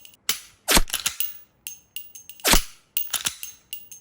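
A laser training pistol is dry-fired repeatedly, giving sharp, close mechanical snaps and clicks in irregular pairs, with a couple of louder cracks among lighter clicks and no talk.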